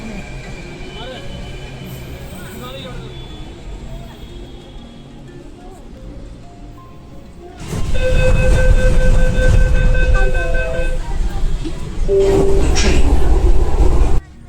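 A Delhi metro train rolls along with a deep, steady rumble that swells suddenly louder partway through and stays loud, a few tones ringing above it.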